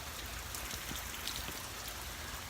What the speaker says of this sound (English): it's raining again, and I'm grateful